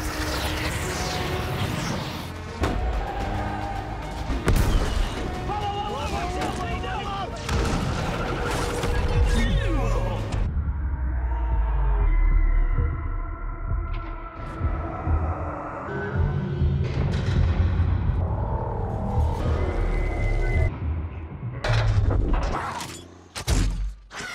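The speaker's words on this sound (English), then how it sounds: "Galvatron just fired four rockets" Rockets fired by Galvatron in the Transformers: Age of Extinction video game, heavy thuds and booms crashing through dense, continuous game noise with mechanical clatter, loud and close throughout.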